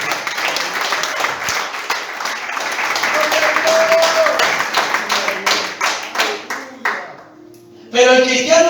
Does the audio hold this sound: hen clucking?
no